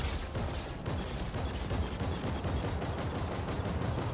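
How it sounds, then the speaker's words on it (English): Rapid, sustained machine gun fire from a 200-round weapon in a video game, a dense unbroken stream of loud shots rattling without pause throughout. "We have the machine gun with the 200 round clip. Let's check the reload time."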